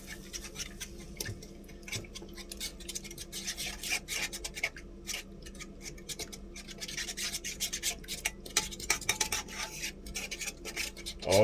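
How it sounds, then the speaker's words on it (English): Eggs being whisked in a bowl at a snowy winter campsite, a steady fast scratchy rubbing and clinking that continues throughout at close range, with no talk over it. "A couple of eggs. Let's whisk that up."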